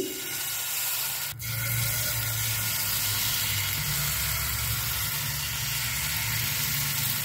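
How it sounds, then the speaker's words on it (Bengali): Chocolate cocoa-powder batter sizzles steadily in a ghee-greased pan while a pitha is made, a continuous close hiss with a brief tap near the start and no voices. "কোকো পাউডার দিয়ে যে চকলেট ব্যাটারটা তৈরি করেছি সেটা অল্প অল্প করে নিয়ে দিয়ে দিচ্ছি"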